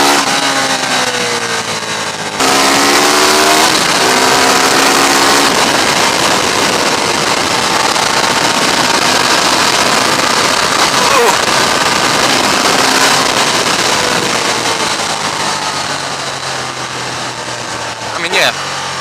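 A 2015 Ducati Diavel motorcycle engine roars loud and close throughout a fast countryside ride, with rising and falling revs through the gear changes and steady wind rush behind it.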